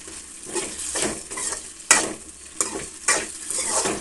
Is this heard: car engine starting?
no